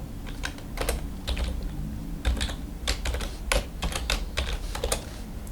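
Rapid keystrokes on a computer keyboard, close and clear, arriving in irregular bursts of clicks with short pauses between them and no voices.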